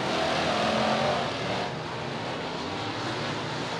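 UMP open-wheel modified race cars on a dirt raceway at night, a steady, broad engine roar from several cars at once, loud and sustained with a slight dip midway.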